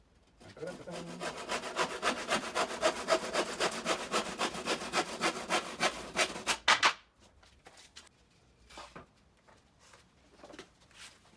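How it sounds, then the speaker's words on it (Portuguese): A handsaw cuts through a wooden board with steady, rapid back-and-forth strokes for about seven seconds, close and fairly loud, followed by quieter scattered handling knocks, in a workshop making musical instruments from alternative materials. "E venho com o serrote para serrar."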